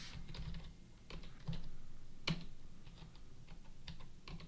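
Quick clatter of keys on a computer keyboard, irregular taps and a few sharper strokes, close and quiet with no voices.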